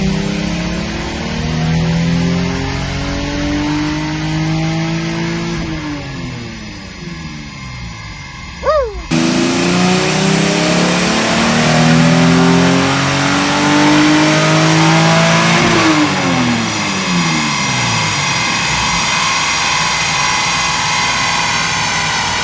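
Lexus SC300 with a 2JZ engine revving hard on a dyno, loud sustained sweeping roar rising through the gears with a brief drop at a shift, close and continuous.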